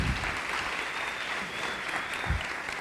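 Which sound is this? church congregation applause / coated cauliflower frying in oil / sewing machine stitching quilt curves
church congregation applause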